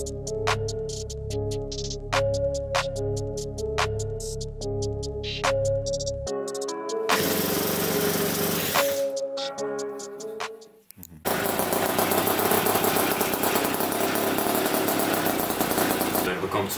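A Puch Maxi S moped with a poorly adjusted ignition and a fuel supply problem, its small two-stroke engine buzzing and revving unevenly in bursts, with a sharp cut and a loud raspy run at the end.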